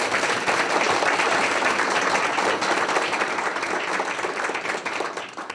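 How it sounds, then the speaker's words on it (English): At a CUNY Board of Trustees meeting, a room full of people claps steadily for several seconds, a dense, even applause that slowly fades at the end. "We applaud his efforts here."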